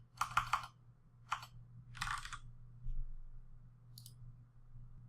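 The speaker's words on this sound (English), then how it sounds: "I'm just going to type it in." Quick bursts of computer keyboard typing, a fast cluster of clicks followed by a few separate short runs of keystrokes, close and fairly quiet over a low steady hum.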